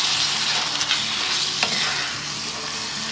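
Meat filling for briouats cooking in a pan, stirred continuously, with a dense close sizzle and scraping of the spoon throughout and no speech.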